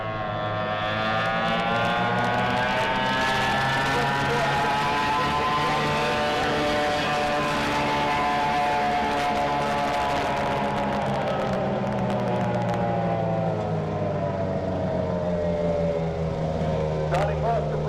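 A racing boat on Lake Tholocco speeds past at 88 miles an hour, its engine a loud, steady harmonic roar that sweeps in pitch as it goes by, heard alone throughout.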